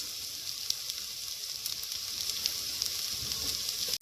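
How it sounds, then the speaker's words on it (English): Chilies and curry leaves sizzle steadily in hot oil in a frying pan, a constant close crackling hiss with small pops throughout, no voices. "I'm going to add in the chilies and the curry leaves."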